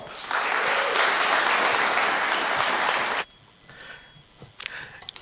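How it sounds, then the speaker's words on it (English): An audience at Kiwi PyCon, a Python programming conference, claps steadily and loudly for about three seconds before the applause cuts off abruptly, leaving a quiet room with a few faint sounds. "big round of applause so he can hear you"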